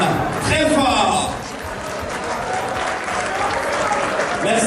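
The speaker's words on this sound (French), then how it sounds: "je voudrais qu'on acclame très fort" An audience at an association's 15th-anniversary gala applauds award recipients, steady loud clapping from a large crowd that dips briefly and then swells again.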